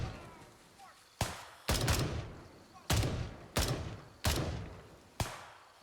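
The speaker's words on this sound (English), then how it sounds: "I'm gonna risk and say it's a person and shoot it." Gunfire in the tactical shooter game Gray Zone Warfare: six sharp, loud shots spaced about a second apart, each with a booming echoing tail, alone without talk.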